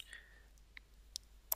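Several faint, sharp mouse clicks spaced irregularly while building plies in composite design software, with no talk.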